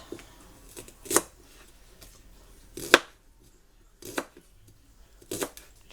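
A knife chops half a small sweet onion on a board, giving four or five sparse, crisp cuts spaced about a second apart, close and fairly quiet, with no talking.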